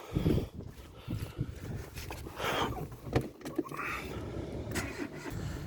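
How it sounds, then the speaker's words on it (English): A Renault Clio engine cranks over with its plug leads refitted after work, a close, continuous churning, rumbling whirr of the starter with uneven surges that never settles into a running idle. "Let's see if it's cranking over now."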